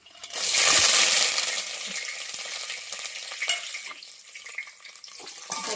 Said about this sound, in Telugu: ఆయిల్ అయితే వేడిందండి, తాలింపు గింజలు అయితే యాడ్ చేస్తున్నాను.